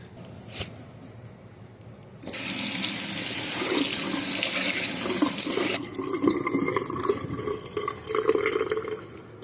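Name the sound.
tap water running over a water oak wood cookie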